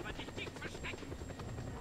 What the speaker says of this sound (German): Ich will den Helikopter haben, nicht putt machen die ganze Zeit.